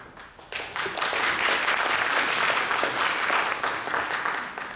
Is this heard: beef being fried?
no